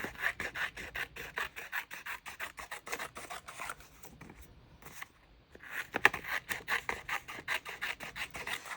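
Paper trimmed for a Dutch door bullet journal spread, heard as quick, close, rhythmic scissor snips and rasping cuts that pause briefly midway and then resume at the same steady pace.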